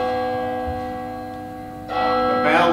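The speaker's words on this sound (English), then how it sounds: "The bells of midnight have struck." Church bell tolling at midnight, a sustained ringing tone with rich lingering overtones, followed by a fresh louder strike near the end.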